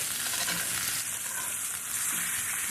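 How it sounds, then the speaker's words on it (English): Steak searing in a hot pan and being turned, a steady close sizzle and frying hiss that swells briefly near the end, with no talking. "I think it is time to turn the steak."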